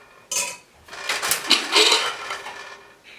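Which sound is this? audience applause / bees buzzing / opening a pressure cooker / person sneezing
opening a pressure cooker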